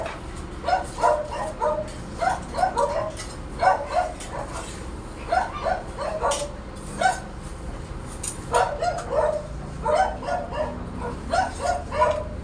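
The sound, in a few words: dog barking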